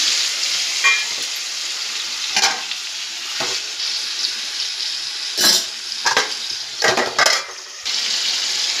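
Tomatoes frying in a pan for a ridge gourd chutney, a loud, steady hiss of sizzling oil with several sharp bursts of stirring and pan scraping spread across it.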